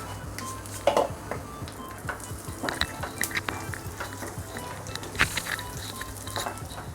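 Cumin and cardamom sizzle steadily in hot ghee, a close, continuous frying hiss broken by scattered clinks and scrapes of a spoon against the pan.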